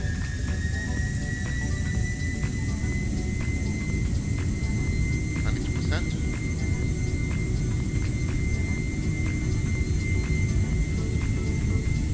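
A Boeing 747-400 rolls for takeoff in a flight simulator, a steady loud jet roar with thin high engine whines that climb slowly in pitch, continuous and unbroken from start to finish.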